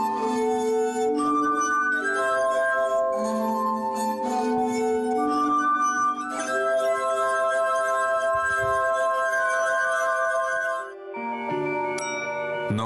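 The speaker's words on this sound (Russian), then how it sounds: "Если провести мокрым пальцем по краю сосуда, он начнет вибрировать." Wet fingers rubbed around the rims of wine glasses ring out in long, pure sustained tones, several pitches layered like an organ chord, shifting to new notes every second or two and played steadily without any talk.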